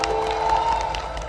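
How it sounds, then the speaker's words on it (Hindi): An audience at a Uttarakhand folk music concert in Delhi applauds and cheers, a brief dense wash of crowd clapping heard over a sustained tone. "शब्दोत्सव की टीम के लिए एक बार और जोरदार ताली"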